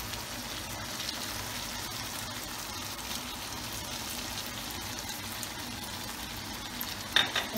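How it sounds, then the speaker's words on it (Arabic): Chicken with tomato paste and hot sauce sizzles in a pan while being stirred, a soft, steady crackle of frying with faint scraping, fairly quiet and close, with a brief sharper clatter near the end. "نقلبهم ونستمر بطهي الدجاج لمدة 5 دقائق أخرى"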